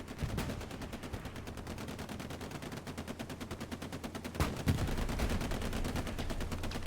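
Rapid, continuous gunfire rattles through a World War II–style war game battle at Sainte-Mère-Église, with Stuart light tanks driving around firing, and a heavier blast or two standing out near the end over the steady din.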